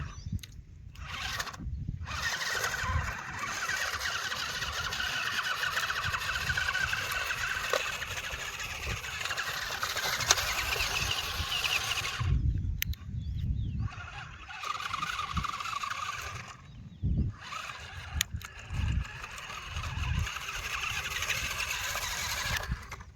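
A homemade mini tractor engine runs slowly, giving a continuous droning rumble with squealing mechanical whine and a few brief dropouts, heard alone without speech.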